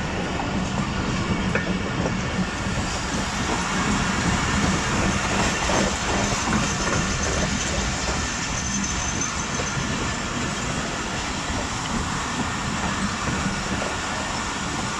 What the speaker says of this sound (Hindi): ये लग गई ब्रेकें ट्रेन के रुकने का इंतज़ार है